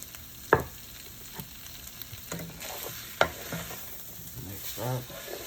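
Seasoning and herbs being stirred into chicken gizzards and hearts in a pan, a low simmering sizzle under a few distinct scraping and clanking spoon strokes spaced apart.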